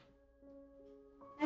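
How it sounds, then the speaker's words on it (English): A cat gives a faint, sustained tonal meow held for about a second, then a brief louder sound at the very end, close by in a quiet room. "She's meowing a lot now."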